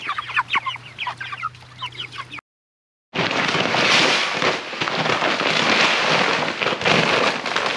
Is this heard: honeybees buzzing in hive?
no